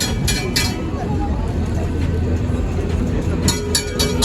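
A historic tram on Istiklal Avenue in Istanbul rumbles along rails with rattling, metallic clinks and squeals over a steady low drone, heard up close.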